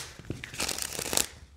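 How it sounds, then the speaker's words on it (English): A brief, soft burst of glossy-coated playing cards from a Keepers of the Light deck being shuffled, papery riffling and flicking close by, lasting about a second. "They shuffle great."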